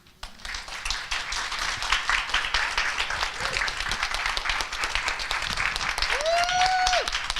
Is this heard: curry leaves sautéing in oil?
no